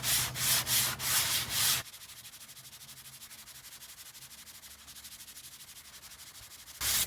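Fresh 180-grit sandpaper scrubs car bodywork by hand in loud, rhythmic back-and-forth strokes at close range, then drops to a faint, steady rubbing before a final loud stroke returns.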